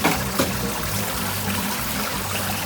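Steady splashing and trickling of melted ice water draining from the evaporator of a Hoshizaki ice machine during defrost, a continuous close wet rush with the water pump running underneath.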